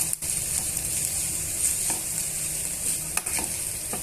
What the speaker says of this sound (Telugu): ఫ్రెష్ జింజర్ గార్లిక్ పేస్ట్ని యాడ్ చేసుకొని ఇవన్నీ బాగా మిక్స్ చేసుకొని పచ్చివాసన పోయేంత వరకు వేయించుకోండి